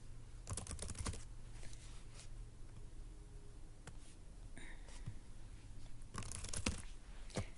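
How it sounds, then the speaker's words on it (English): Faint, close clicks of fingers typing on a computer keyboard come in irregular bursts of keystrokes separated by short quiet gaps, with soft low background noise underneath. "So I'm just going to type stuff that doesn't make sense."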